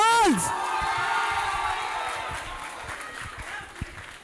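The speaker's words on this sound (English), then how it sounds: "can I please have a loud round of applause for the most legendary class to walk these halls?" A graduating class of 2023 receives loud applause with cheering and whoops from an audience at an IGCSE awards ceremony, starting with a swelling roar and holding as a dense crowd wash that slowly fades.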